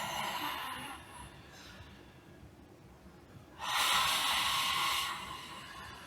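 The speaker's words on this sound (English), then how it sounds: "the best way to sensitize the tonsil is what is called lion breathing." A person does lion breathing with the tongue stuck out, pushing forceful, breathy exhalations that alternate with quieter inhales, close and alone with no talking.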